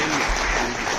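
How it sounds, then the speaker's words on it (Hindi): Applause from an audience at an educational conference and honour ceremony, a dense continuous wash of clapping filling the whole short stretch at close range. "लेकिन एक बार मां की वंदना में बजा दो तालियां"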